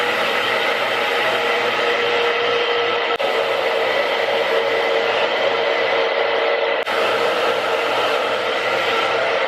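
A hair dryer gives a steady, close, whooshing blast of hot air for several seconds, broken by two brief dips, with no talking.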